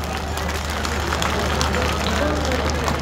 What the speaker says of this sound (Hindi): तालियों से दोनों का आप स्वागत करें।